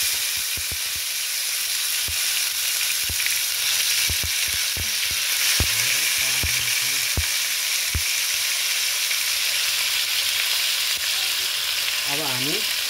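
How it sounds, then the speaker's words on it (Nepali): Onion and tomato fry together in hot oil in a pan, a steady loud close sizzle running throughout, with a series of sharp utensil taps against the pan early on and a few scraping stirs later. "अब हामी मजाले प्याज र गोलभेडा एकैचोटि हालेर चाहिँ फ्राई गर्दैछु।"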